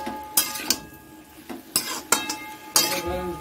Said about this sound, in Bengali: দেখো এখানে একটা টমেটো দিলাম আর একটু ধনের গুঁড়ো দিলাম, দিয়ে ভালো করে ওটাকে একটু নাড়াচাড়া দিয়ে নিই।